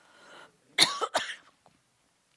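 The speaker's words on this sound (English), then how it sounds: "He's clearing his throat for me." A man clears his throat during a Shabbat evening service: two or three short rough bursts, near but soft, with quiet around them.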